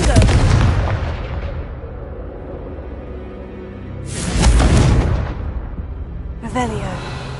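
Confringo spell blasts in Hogwarts Legacy, two loud booming explosions with rumbling decay, the second burst followed by a sharper crack and lingering debris noise.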